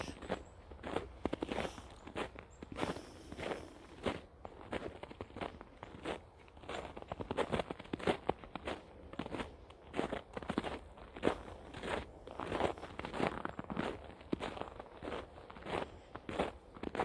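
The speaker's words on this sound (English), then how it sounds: "And still there's the snow crunching underfoot." Footsteps crunch through snow in a steady walking rhythm, close and fairly quiet, each step a gritty crackle with faint rustling between them.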